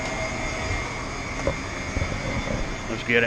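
A car engine roars steadily on a Clayton chassis dyno, a loud sustained drone in fourth gear with a voice speaking briefly over it.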